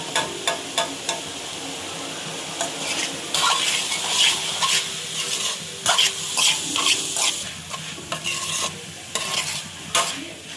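Vegetable rice noodle stir-fry sizzles loudly in a hot pan just after soy sauce goes in, with steady frying hiss and repeated scraping stirs throughout.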